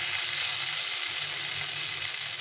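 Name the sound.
water poured into sizzling spiced potato and taro curry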